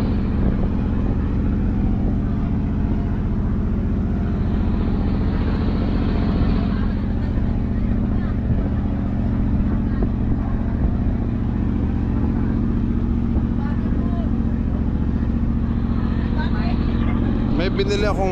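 A Mitsubishi 8DC1 diesel truck engine rumbles steadily and loudly nearby, a deep continuous drone with faint voices underneath.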